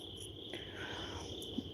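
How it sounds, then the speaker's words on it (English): Crickets chirp in a steady, continuous high trill at night during a paranormal investigation, faint and even throughout with no talking. "Yes, the sounds of the crickets."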